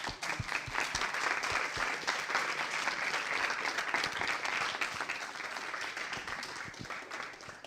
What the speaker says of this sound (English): So you can give a round of applause to them